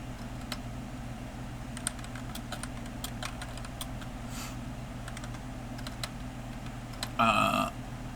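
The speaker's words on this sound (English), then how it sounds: "That's what I'm typing up right now." Keys clatter on a computer keyboard in irregular bursts of clicks and taps over a steady low room hum, with a brief louder rustle near the end.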